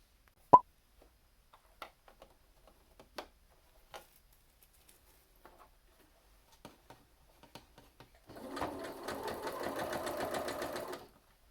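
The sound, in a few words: sewing machine sewing a vest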